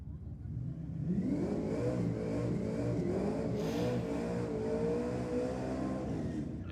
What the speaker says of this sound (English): sounds nice and crisp in the burnout